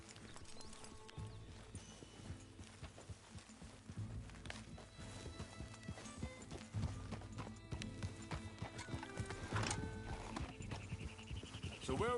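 Horse hooves clip-clop steadily in Red Dead Redemption 2, a rhythmic walking gait that continues throughout, with occasional whinnies and snorts, under intermittent talk from characters.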